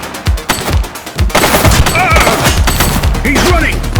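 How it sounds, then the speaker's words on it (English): Video game gunfire erupts in a police shootout in The Precinct, loud rapid bursts of shots and booms overlapping amid shouted voices. "He's shooting!"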